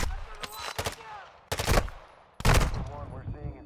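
Enemy gunfire in the Call of Duty MW2 DMZ video game: three loud, close bursts of rapid shots separated by short pauses, each fading into a ringing tail.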